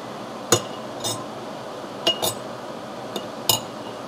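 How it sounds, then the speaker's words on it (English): A lid goes onto a glass canning jar of cowboy candy preserves. Several sharp, close glassy and metallic clinks and taps are spaced out over a quiet background. "what I'm going to do now is I'm just going to put the lid on"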